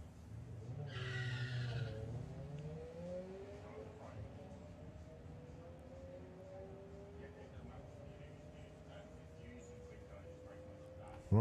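Two yellow VW drag racing cars run side by side at Bug Jam qualifying. Their engines sound faint and distant, rising steadily in pitch as they accelerate, with a brief squeal near the start under a busy background.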